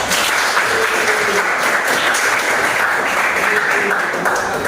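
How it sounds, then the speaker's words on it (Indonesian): Classroom listeners applaud at the end of a student group presentation, a steady wash of many hands clapping at an even, fairly loud level that holds without a break. "tepuk tangan"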